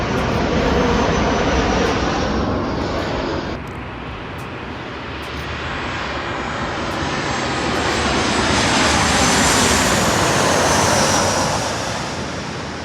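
A Southwest airliner on approach passes low overhead in San Diego, its loud, steady jet engine roar building and sweeping across the sky, dipping briefly, then swelling again as the plane goes by.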